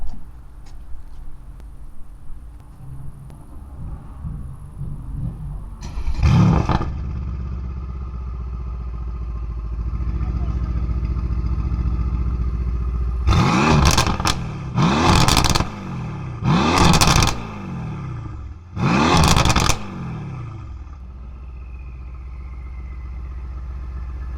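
A Mercedes C63s AMG fitted with a catless downpipe exhaust idles with a deep rumble, then one loud rev. Four sharp, aggressive revs follow in quick succession, very close and loud, with the engine settling back to idle between them.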